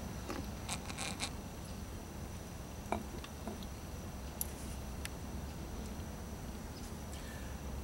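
Poured Timisoreana Brune dark beer with a huge cream-colored head, its foam giving off faint, scattered crackles and tiny ticks up close over a quiet, steady background hiss, with no talking.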